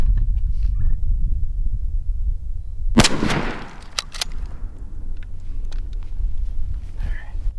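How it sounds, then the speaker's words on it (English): A single shotgun blast from a 3-inch Winchester Super X load of copper-coated lead #4 shot, outdoors on a cold early-season turkey hunt, one sharp loud report with a quick decay over quiet wind noise. "Last shot, I'm gonna try Winchester Super X, 3 inch, 4 shot, which is copper coated lead."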